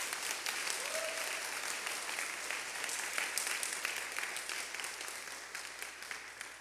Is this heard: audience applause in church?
yes